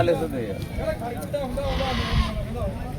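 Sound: goat bleating

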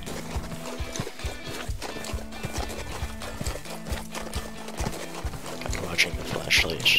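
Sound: horse hooves clip-clopping in Forestry sim 2017 video game

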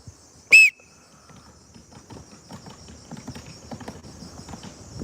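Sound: whistle signalling start of training

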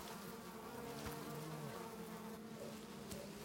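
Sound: bees buzzing around nest

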